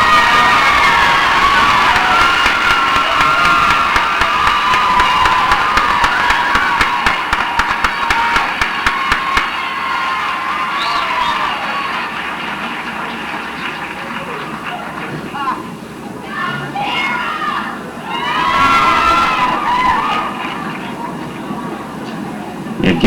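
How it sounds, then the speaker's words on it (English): At a state beauty pageant, the audience cheers and applauds loudly for the top eight finalists. The crowd noise is strong early on, then ebbs and swells with shouts and rowdy noise. "Another big round of applause for them"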